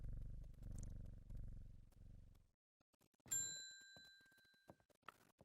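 Cat purring and a bright chime in the plant-shop puzzle game Strange Horticulture, a soft low rumble for about two seconds, then a pause and a clear ringing ding that fades slowly, with a few small clicks after.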